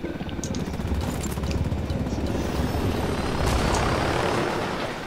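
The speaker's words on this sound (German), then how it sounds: "Ist er weg, der Hubschrauber?" A helicopter in the video game Ghost Recon Wildlands gives off a loud, continuous rotor and engine roar that swells slightly toward the end, with faint distant gunfire-like crackles mixed in.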